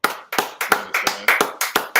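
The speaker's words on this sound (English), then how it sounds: "Give him a lot more round of applause" A few people clap for a man at a religious talk, about ten distinct, evenly spaced claps over two seconds, close and fairly loud, with no voices in between.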